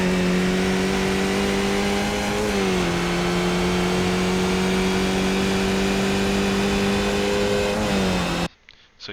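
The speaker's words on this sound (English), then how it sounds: "So you heard there I shifted up into fifth gear." An open-wheel Skip Barber race car in iRacing at Long Beach drones with a loud, steady engine whine, then two clear upshifts drop the pitch briefly before it climbs again; the sound cuts out abruptly near the end.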